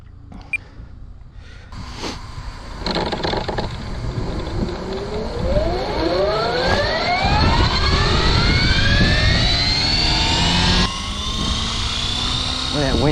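An RC helicopter's rotor blades spin up and fly outdoors in gusty wind, the motor and rotor whine rising steadily in pitch and holding loud and near, with a person talking over it.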